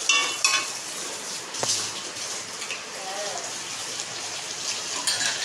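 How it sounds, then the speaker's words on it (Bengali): A fish-head bhanga chura shukto simmers in a pot on the stove with a steady, crackling bubble and a few sharp clinks, while a voice speaks faintly. "দেখো কত সুন্দর ফুটছে।"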